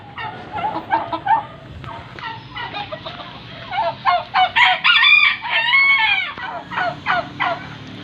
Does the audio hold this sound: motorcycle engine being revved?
no